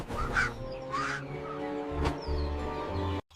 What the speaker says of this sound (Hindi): एक प्यासा कौवा पानी की तलाश में उड़ रहा था।